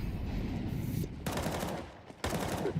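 Rapid bursts of auto sniper rifle fire in Counter-Strike during a BC Game versus VOCA match, two clusters of shots separated by a short lull, fairly loud over game ambience.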